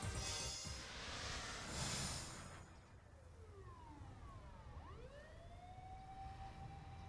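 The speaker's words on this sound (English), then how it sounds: "Achi could hear ambulance and police sirens wailing on the main road." Ambulance and police sirens from the video game 428: Shibuya Scramble, a rising and falling wail with overlapping tones sweeping up, fading after a rushing noisy opening, moderately distant.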